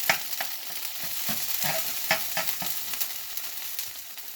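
Beans and cheese fry in a pan with a continuous close sizzle, broken by frequent sharp pops and spatters landing at irregular intervals.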